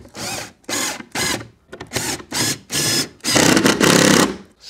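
Power drill driving long screws into a timber joist while boxing in kitchen pipework, heard as several close, loud bursts of whirring that start and stop in quick succession, with the last two runs longer and heavier.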